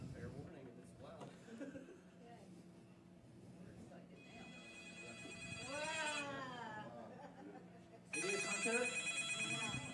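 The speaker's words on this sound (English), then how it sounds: "Turn the ringer up. It's obnoxious." A telephone with its ringer turned up rings in loud electronic bursts, first joining low talk partway through, then starting again louder after a short pause, with voices speaking underneath.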